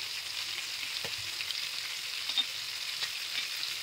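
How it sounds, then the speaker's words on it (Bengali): Whole spices, including whole coriander seeds, dry roasting in a pan while being stirred, giving a steady soft sizzling hiss with a few faint scrapes and ticks throughout, no talking. "হোল মশলাগুলোকে একটু ড্রাই রোস্ট করে এটা গ্রাইন্ড করে নিতে হবে"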